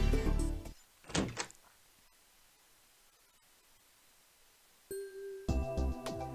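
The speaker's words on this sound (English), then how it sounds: "the door to the booth flung open" A booth door in the Steins;Gate 0 video game flung open after a heavy knock, loud thumps at the start, a quiet static gap, then a bang and rattle of the door near the end.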